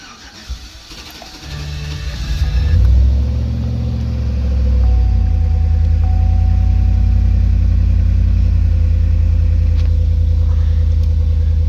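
A truck engine cranks and catches after throttle body cleaning, then settles into a loud, steady low idle with a slightly uneven, rough rumble.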